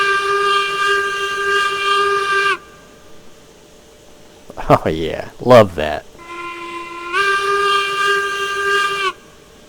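Steam locomotive whistle in Railroads Online, two long loud blasts separated by a gap where someone talks briefly over mechanical clanks.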